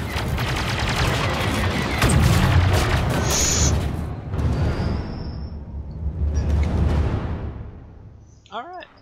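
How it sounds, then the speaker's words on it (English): Rapid booming explosions and gunfire from a Star Wars Battlefront II campaign battle, dense overlapping blasts with a fighter engine whoosh, dying away then swelling again before a short burst of robotic droid chatter at the end. "More explosions!"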